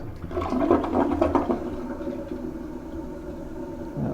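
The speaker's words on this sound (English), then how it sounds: "let us do our maiden flush" A newly installed toilet gives its first flush: a loud, close whoosh of rushing water that peaks early, then settles into a lower draining and refilling gurgle, with no one speaking.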